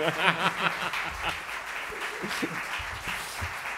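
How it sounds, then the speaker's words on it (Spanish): An audience at a literary talk on Cervantes and Shakespeare gives applause, a moderate, somewhat uneven clapping with low murmurs and voices audible beneath it. "Un fuerte aplauso, quiero decir."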